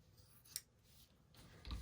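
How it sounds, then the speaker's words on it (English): Scissors cut through the bottom of a fabric sock, a quiet, close snipping sound with a brief sharp crunch and faint handling noise. "we just want to go ahead and cut that bottom out"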